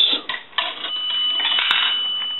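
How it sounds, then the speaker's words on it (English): Bell of a Northern Electric three-slot payphone rings for an inserted dime, a bright metallic ringing that carries through the clip with sharp strikes near the start. The sound is fairly close, and no one speaks. "We'll do a dime, which will ring the bell twice."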